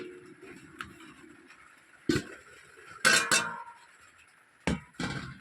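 Jute leaves (pat shak) being cut in a home kitchen, with a few sharp knife taps against a cutting board spaced out over a quiet background, no talking.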